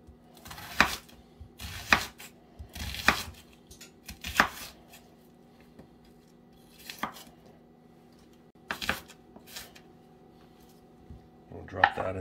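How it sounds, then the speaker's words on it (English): A knife chopping an onion on a cutting board makes sharp, spaced knocks. They come in short bursts with pauses between them and sound close and fairly quiet. "Chop up this onion."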